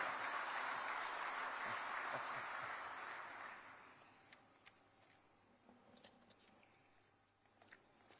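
An audience in a hall at an annual dealers' meet and felicitation ceremony bursts into loud, dense applause that holds for a few seconds, then thins out to scattered claps and fades.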